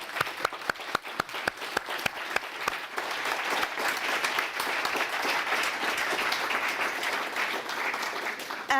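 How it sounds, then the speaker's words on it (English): Audience applause at a human rights conference in Vienna: a few distinct claps at first quickly swell into sustained, dense clapping from a large room, loud and continuous. "please give a big applause to this audience"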